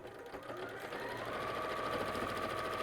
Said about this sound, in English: So we'll just slide that onto the sewing machine